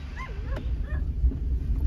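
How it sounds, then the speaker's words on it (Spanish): Several dogs bark and yip in short bursts, with whimpering between, loose outdoors at a friend's house where rabbits are nearby; the yelps are fairly close over a steady low rumble of background noise. "Los perros están ladrando mucho porque hay conejos afuera."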